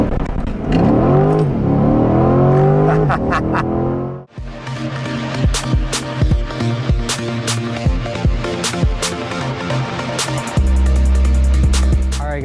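A Chevrolet C8 Corvette revs against the brake, drops briefly, then launches hard with a loud, climbing engine roar through rapid gear changes before settling to a lower drone.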